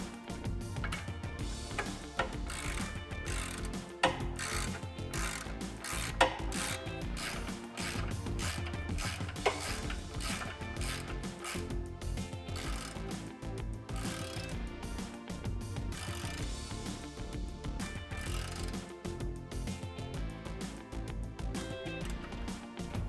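A ratchet turns an 18 mm socket while installing an adjustable Panhard bar on a 2005-2014 Mustang, giving a dense run of rapid clicking that continues, close and fairly quiet.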